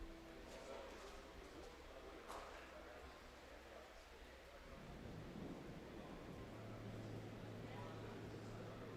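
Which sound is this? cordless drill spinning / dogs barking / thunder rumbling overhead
thunder rumbling overhead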